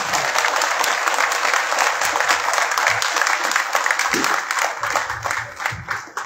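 An audience in Pakhal village applauds to welcome Chairman Juneja at an event about a new government school building. The loud, crowded clapping runs steadily, then thins and loosens slightly near the end.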